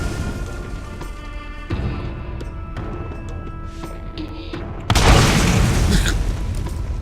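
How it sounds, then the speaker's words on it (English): Rocket launcher explosions in Borderlands 1, a loud deep boom erupting suddenly and rumbling on, preceded by lighter impacts and game ambience. "Took 2 rockets to kill"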